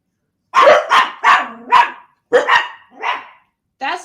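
A run of loud, close barks from several dogs arrives in uneven bursts of two to four, with short gaps between them and a final bark at the end.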